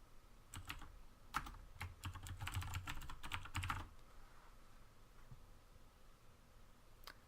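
Quick bursts of clicking keystrokes on a computer keyboard while entering a git clone command, clustered in the first few seconds, then a quiet room hum with one last isolated tap near the end.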